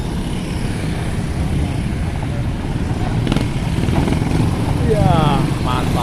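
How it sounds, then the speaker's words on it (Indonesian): Steady stream of motorcycles rolling past a crowded parking area at Bakauheni port, a dense continuous engine drone that swells slightly toward the end, with a person talking over it. "Motor lagi, menyambung terus motornya."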